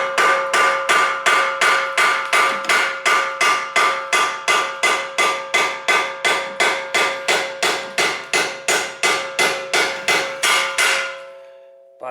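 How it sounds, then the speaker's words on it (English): Brass hammer pounding a rusted front strut bolt on a VW MK6 Golf GTI, a steady run of about thirty sharp metallic blows at an even, quick rhythm, loud and close, ringing slightly before stopping. "I'm going to use my brass hammer, and hopefully that will come out."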